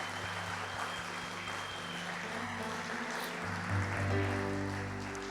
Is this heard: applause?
yes